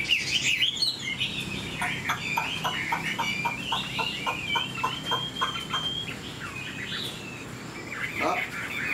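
A large-bodied Chinese hwamei songbird sings high, fast runs of repeated whistled notes, then looser warbling phrases, close and clear over a steady background hiss.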